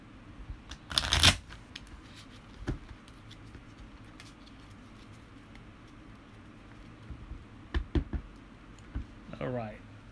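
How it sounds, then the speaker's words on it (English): A deck of playing cards is shuffled by hand indoors, a sharp riffling burst near the start followed by a few lighter flicks and clicks, with quiet room noise between and a voice speaking. "Look how good I am at shuffling."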